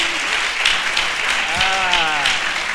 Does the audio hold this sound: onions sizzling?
no